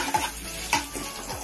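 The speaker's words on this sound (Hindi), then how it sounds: "तिल भुन गया है, गुलाबी गुलाबी दिखने लगा है" Sesame seeds roast in a kadai for a vegetable rava idli tempering. A spoon stirs and scrapes against the pan in a few distinct strokes over a soft, steady sizzle, close and with no talk.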